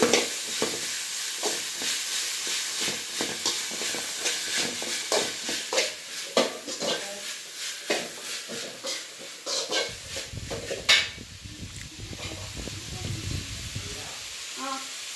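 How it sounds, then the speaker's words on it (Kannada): Ginger garlic paste fries in a hot pan for cabbage manchurian, giving a continuous hiss and sizzle with frequent clicking stir strokes, then a softer, lower bubbling toward the end. "ನಾನು ಶುಂಠಿ ಬೆಳ್ಳುಳ್ಳಿ ಪೇಸ್ಟೇ ಹಾಕ್ತಿದ್ದೀನಿ ಚೆನ್ನಾಗಿ ಫ್ರೈ ಮಾಡ್ಕೊಂಬಿಡೋಣ"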